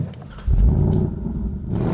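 Ford Mustang 2018 with its normally aspirated 5-litre V8 starting up, a low idle rumble jumping into a loud, deep rev at ignition and settling into a strong, steady burble close by.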